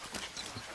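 Dog in the video game Far Cry 6 giving a brief, close burst of panting or short yelps, heard alone without speech.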